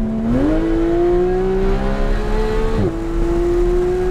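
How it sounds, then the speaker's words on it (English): A supercar accelerates hard out of a turn on a race track, its engine note rising loudly and steadily up close, dipping briefly with a gear change before pulling again. "Accelerate early, coming out."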